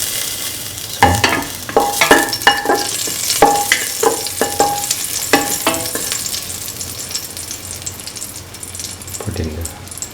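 Cardamom pieces and salt tumble into a hot pan of oil for carrot coconut milk pasta, bringing a close, steady sizzle with a quick run of scraping, tapping stirs before the frying settles into a softer hiss.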